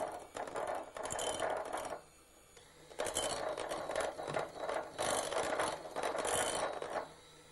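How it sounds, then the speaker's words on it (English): A food processor whirs steadily while blending a mascarpone mixture, running in two bursts with a short pause between them, close but moderately quiet. "I'm going to switch on again and just blend all that together"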